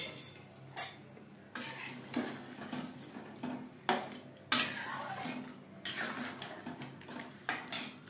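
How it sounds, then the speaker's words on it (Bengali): Pieces of mutton tipped into a pan with fenugreek and stirred with a metal spoon, giving repeated sharp scrapes and clinks against the pan over a faint sizzle, close and moderately quiet. "এবারে এতে অ্যাড করব মাংস"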